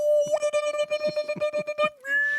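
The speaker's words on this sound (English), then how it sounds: "It's interpreting our voices into piano sounds or something." Voices garbled by a digital audio effect into piano-like tones, a steady held pitch with a stuttering run of chopped, tonal syllable bursts over about two seconds, then a shifted higher tone.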